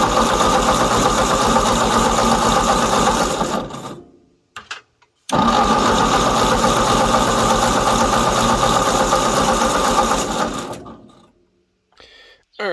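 A 1953 Ford Golden Jubilee tractor engine cranks over loudly in two long bursts of steady, rapid churning, each about four to five seconds, separated by a short pause and followed by quiet.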